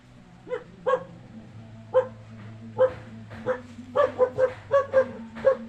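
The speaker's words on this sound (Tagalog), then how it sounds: "Ay, ingay ng aso" A dog barks repeatedly nearby, sharp yips coming in an uneven series that quicken toward the end, over a low background hum.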